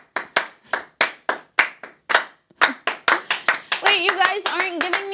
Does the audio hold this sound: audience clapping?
yes